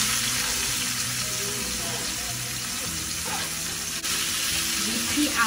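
A large onion sizzles in a pot for oxtail stew, giving a continuous bright frying hiss close by with faint clinks, and no pauses.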